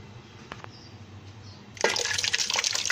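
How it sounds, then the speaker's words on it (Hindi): Water is poured into a cooking pot for shahi haleem, with a couple of faint clunks at first, then a sudden loud, splashy gush that keeps running to the end, with no talking. "यहाँ पे मैंने 2 जग पानी ऐड किया है"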